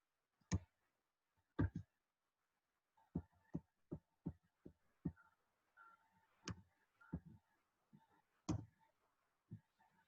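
Keys clack on a computer keyboard in a quiet lab, sounding as scattered, distinct clicks. Short bursts of typing are broken by pauses, and the sound is faint and close by.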